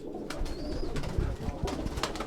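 A male racing pigeon coos close by in soft, repeated low throaty calls, over light background rustling and a distant chirp, with no one speaking.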